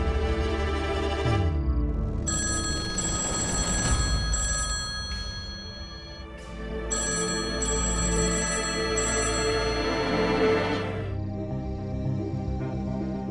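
A home telephone rings with a bright, sustained electronic bell tone in long bursts, separated by a short gap, loud and close with no voices over it.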